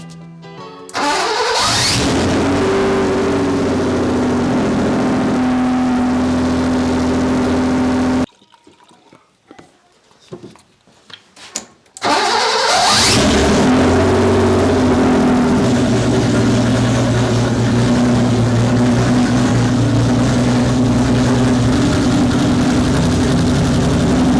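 A restored BMW E30 engine cranks and fires, then idles loud and steady close by; after a few seconds of near quiet with small knocks, it starts again and settles into a strong, even running drone.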